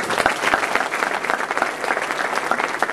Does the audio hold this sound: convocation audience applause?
yes